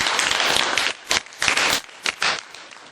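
A brief round of applause from a group of cadets in a classroom, a dense burst of clapping that breaks into scattered, uneven claps and fades out.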